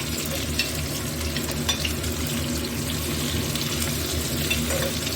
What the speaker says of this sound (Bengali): এবার পেঁয়াজগুলো দিয়ে দেবো।